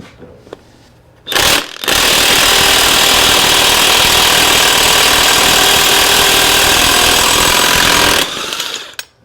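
Impact wrench breaking loose a bolt while installing a fast hitch on a Farmall 130 tractor: a very loud, close, continuous hammering rattle lasting about seven seconds after a short opening burst.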